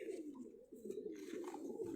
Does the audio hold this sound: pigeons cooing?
yes